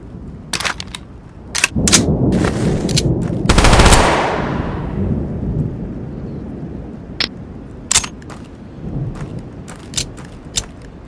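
Loud bursts of automatic gunfire from the Tactical Assault VR video game during a Desert Storm night raid, one long sustained burst with rolling echo followed by scattered single sharp shots.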